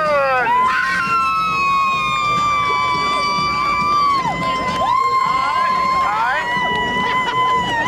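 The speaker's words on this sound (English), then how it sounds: "y'all cheer for the one that looks like Mary J. Blige the most" Audience at a contest cheering and whooping for a contestant, with long high sustained shouts and crowd noise that stay loud and close throughout, mixed with talking.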